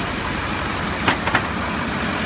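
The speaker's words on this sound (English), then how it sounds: "truck sounds good." A truck engine runs at a steady idle, a low even rumble heard alone with a few brief soft clicks or puffs near the middle.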